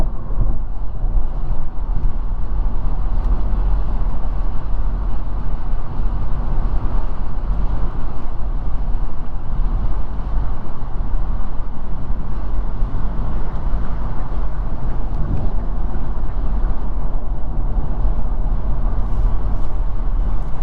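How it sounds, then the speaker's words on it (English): Steady low road rumble inside a moving car, with tire noise from a nearby Jeep Wrangler on loud off-road tires and a truck alongside, a continuous broadband drone with no talking. "that little noise you hear is mostly from that Jeep Wrangler with its loud off-road tires"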